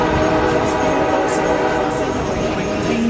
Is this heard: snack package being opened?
no